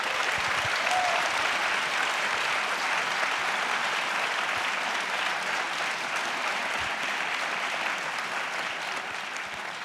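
An audience at a European Left discussion event applauds Alexis Tsipras, a steady dense wash of clapping held throughout at moderate distance, tapering slightly near the end.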